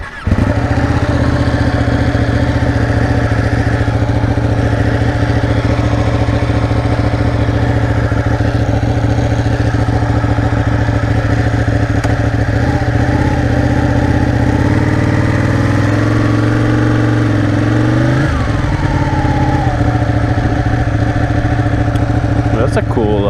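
Motorcycle engine running steadily while riding through town, a loud continuous drone with a brief shift in pitch near the end as the bike changes speed, with someone talking over it throughout.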